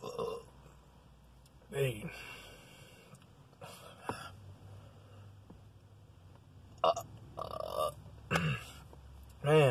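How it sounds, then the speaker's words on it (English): A man burps several times after chugging sweet tea, loud, close throaty eructations spread across the stretch with quiet gaps and brief speech between them. "Man, I know I got a bigger burp coming than that."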